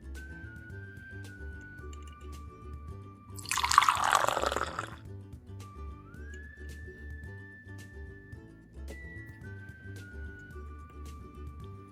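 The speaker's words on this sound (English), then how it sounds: "pour some for me and some for you." Tea poured from a toy pot during pretend play with a Lego Duplo treehouse set, a brief splashy liquid burst of about a second standing out over quiet tonal background music.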